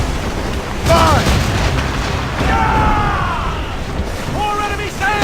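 Ship cannon fire in Assassin's Creed Rogue during a naval battle, a few deep booms spaced over a few seconds amid shouted crew voices and battle noise.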